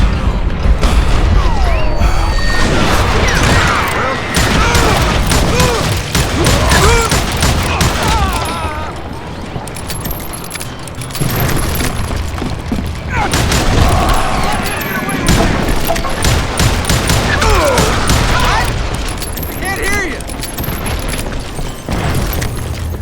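Gunfire and booming impacts in the Western shooter Call of Juarez Gunslinger, loud dense shots and crashes forming a continuous battle din, with a few voices in the mix.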